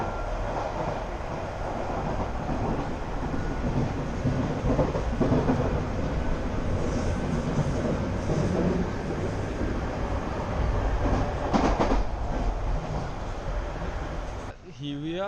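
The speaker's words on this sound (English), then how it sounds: "Look at the train rails. I don't know if you're able to see it. Look at the train." A train runs on rails nearby, a steady loud rumbling roar with faint rhythmic clatter that persists throughout, while a person talks over it.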